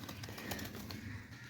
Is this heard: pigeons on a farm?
yes